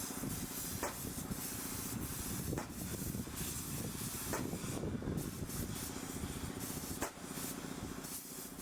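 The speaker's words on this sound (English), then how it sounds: "The second layer is a one-component zinc primer that gets sprayed on" One-component zinc primer is sprayed onto a sailing ship's steel hull during a refit, making a steady, close, continuous hiss with a few brief dips and bumps.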